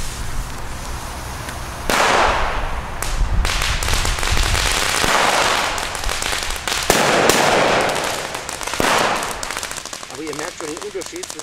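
P1 flash-powder firecrackers explode in a series of about five hard, cracking bangs, each leaving a short noisy tail, loud and close outdoors.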